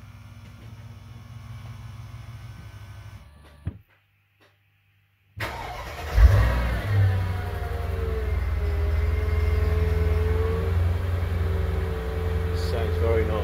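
A Mercedes R230 SL500 engine cranks and catches after a brief silence, then settles into a loud, steady rumble with some revving, close by.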